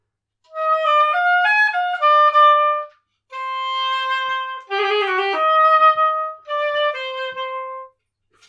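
An oboe plays uneven, halting trills in several short bursts, the notes stumbling and irregular, separated by brief silences.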